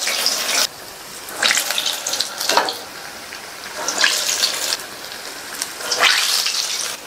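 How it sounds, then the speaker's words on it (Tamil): Bonda batter balls dropped one by one into hot oil, each landing setting off a loud hissing sizzle, with about five bursts spaced through a continuous bubbling fry. "கையில தண்ணியை நல்லா நனைச்சிட்டு இந்த மாதிரி உருட்டி உருட்டி எண்ணெயில போட்டுடலாம்."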